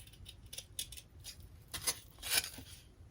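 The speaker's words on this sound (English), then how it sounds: "Now I will cut on each corner" Scissors snipping through felt at the corners while making a swag wreath, a few soft, close crisp cuts and rustles, quiet and alone.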